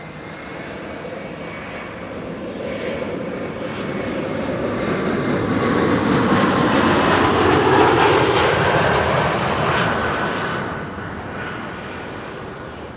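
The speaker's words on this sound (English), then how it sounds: "Next arrival, KLM Flight 1088 arriving from Cardiff, Embraer 175." A KLM Embraer 175 regional jet arriving at Amsterdam Schiphol from Cardiff approaches with a rising engine roar that peaks loud overhead near the end and then tapers off, alone with no talk.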